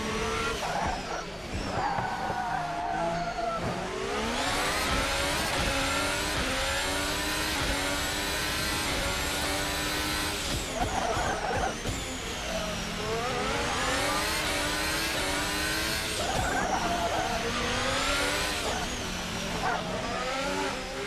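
A Formula 1 car races around a Formula E street circuit in Paris in a racing video game. Its engine screams continuously, pitch rising through the gears and dropping under braking, with tire squeal in the corners.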